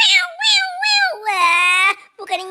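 A voice imitates a cat, giving a run of drawn-out, wavering meows, some sliding up and down in pitch, loud and close with a short break near the end.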